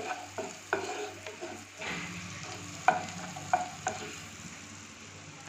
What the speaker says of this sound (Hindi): अब हम इसमें कटी हुई अदरक डाल देते हैं।